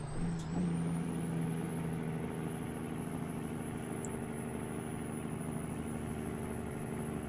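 A heavy American truck engine in the American Truck Simulator game drones steadily throughout, with a low harmonic hum and a brief hiss near the start, loud and continuous without a clear rev climb.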